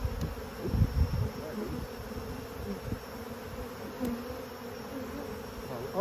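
Honeybees buzz in a dense, continuous hum around an open hive being inspected, steady and close, with a few faint handling noises.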